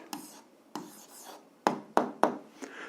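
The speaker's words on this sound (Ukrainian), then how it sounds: "Ну що ж, записуємо відповідь, пишемо відповідь" A pen on paper writes out an answer by hand, making short, close scratchy strokes in separate bursts with pauses between them, quiet and alone.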